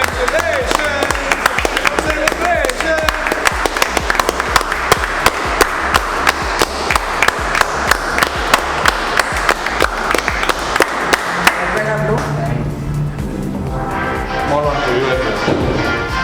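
A group claps together at the delivery of a new 2019 Kawasaki Z900 superbike at a Kawasaki dealership in Bhubaneswar, with dense, rapid applause close by that thins toward the end while people talk and cheer.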